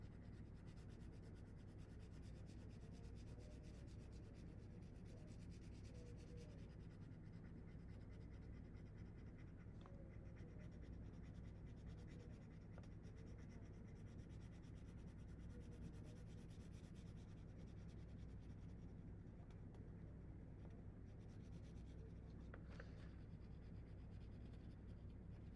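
A watercolor pencil shades a landscape of a road and hills on paper with a soft, continuous scratching and rubbing. The strokes are faint and close and run steadily without pause.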